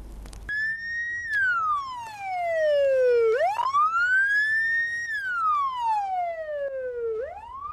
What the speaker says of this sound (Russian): Вой сирены машины медицины катастрофы